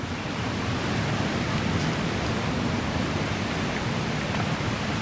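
A stream beside the tent area at the Mae Sa waterfall campground in Doi Suthep-Pui National Park rushes as a loud, steady broadband roar of flowing water, constant and close with no talking.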